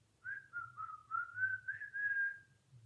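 A man whistles a short, wavering tune, a single clear melodic line that rises and falls for about two seconds, close and alone.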